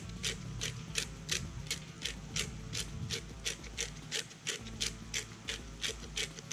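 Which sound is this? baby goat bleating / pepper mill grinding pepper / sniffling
pepper mill grinding pepper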